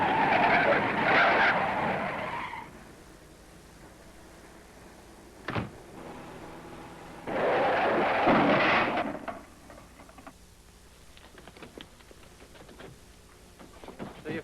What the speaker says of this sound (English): Now, slam on your brakes.